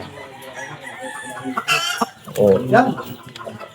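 Bulik gamefowl rooster on a game farm, giving a few clucks and a short crow-like call close by, with a person's brief exclamation and talk in the background.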